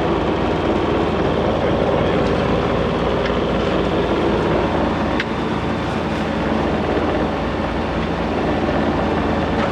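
A sailboat's engine runs steadily during a sea crossing, a loud, continuous droning rumble with a low throbbing pulse that stays even and close throughout, with no voices.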